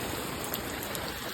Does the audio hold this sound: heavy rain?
yes